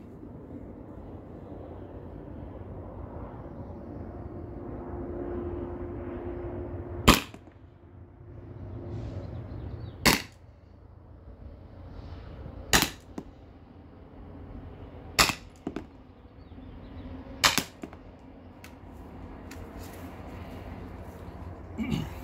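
A CO2-powered less-lethal launcher fires salt rounds at a target, five sharp isolated pops spaced a few seconds apart over a low steady background hum, with talking in between.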